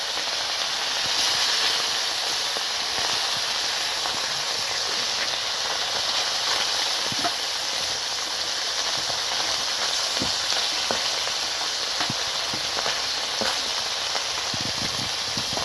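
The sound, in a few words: fish frying in hot oil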